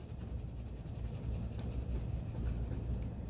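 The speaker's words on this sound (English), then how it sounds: "I am going to use a series of colored pencils to color this in." Soft, steady scratching of a colored pencil rubbing back and forth across paper, quiet and close, with no voices.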